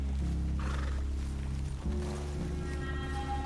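A horse whinnies in Red Dead Redemption 2, a loud, steady neigh over a constant low drone of game sound, without talk.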